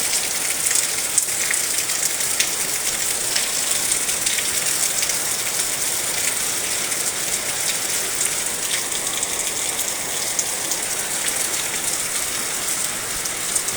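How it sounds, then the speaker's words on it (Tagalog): Heavy rain pours steadily and densely on a surface, a constant hiss with scattered drop impacts, no voices. "Ngayon ang lakas ng ulan."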